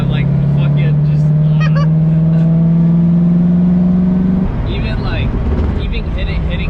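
A Corvette C7 Z06 engine pulls hard under full throttle, its droning tone rising steadily toward redline before cutting off into a lower rumble, with voices talking over it inside the cabin.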